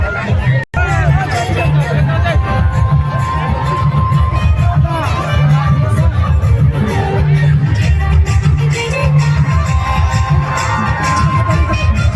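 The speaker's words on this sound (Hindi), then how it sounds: "तो गाइस आप लोग देख सकते हैं भीड़ जयराम महतो के लिए।" A large crowd at an outdoor political rally in Kedla, a dense continuous roar of voices with cheering, whoops and shouts rising throughout, loud and close.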